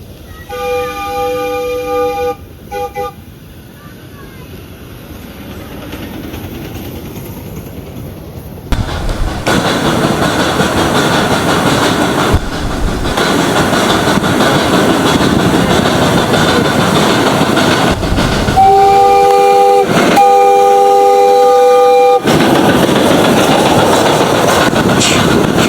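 The Hiawatha passenger train runs with a loud continuous rumble and rolling wheel noise, while its whistle sounds in sustained tonal blasts at the start and again near the end, close and dominant with no talk.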